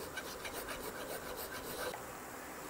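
A metal file rasps back and forth over a tube set into a guitar fretboard, bringing it flush with the wood; quick, close, rhythmic scraping strokes that stop just before the end, with no talking.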